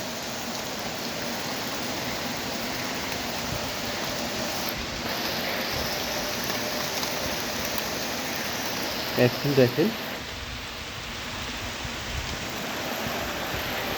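Heavy downpour of rain on a green, leafy spot gives a steady, dense hiss throughout, with a brief burst of clattering around the middle; a voice speaks briefly over it.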